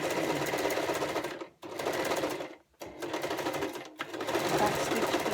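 A sewing machine stitching elastic onto a fabric face mask runs in a loud, close, steady mechanical whir, broken by two short pauses before resuming at the same pace.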